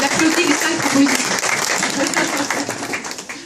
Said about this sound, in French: Il applaudit les 5 propositions.